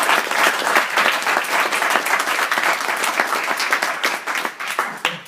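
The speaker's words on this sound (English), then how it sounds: "we need a big round of applause for Paul" Loud, dense applause from the audience at a Bettakultcha York presentation night, a steady wash of many hands clapping for the presenter, with no voices over it.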